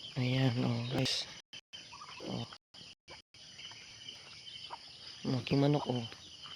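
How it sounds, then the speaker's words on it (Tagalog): Chickens cluck and call in short bursts nearby, with a few brief gaps between the calls. "Aking manok"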